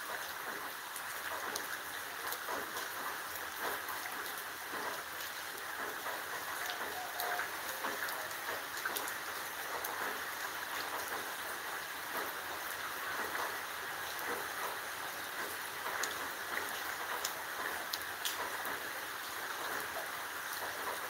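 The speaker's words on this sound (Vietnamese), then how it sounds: "Mưa rất lớn mà hầu như không có cảnh báo thủy văn nào xảy ra trước." Heavy rain falls in a continuous, even wash of hissing noise that barely changes over twenty seconds, a soft, uniform downpour with no other distinct sounds.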